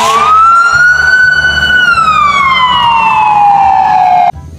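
A loud toy ambulance siren wails in a single long rising and falling tone, then cuts off abruptly near the end.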